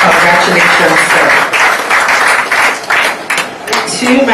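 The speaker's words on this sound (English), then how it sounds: "A round of applause for him." Loud, dense applause from the audience at a business award ceremony honouring top CEOs in 2014, continuous clapping with brief talk mixed in.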